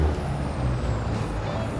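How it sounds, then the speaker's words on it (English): Air brakes on an RMC truck in a farming video game, a steady low rumble with a sustained hiss running through the whole stretch at moderate volume, no talking. "Oh, RMC trucks are sure nice. Sounds are great on them."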